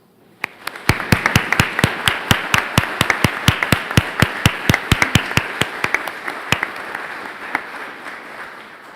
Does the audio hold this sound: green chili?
no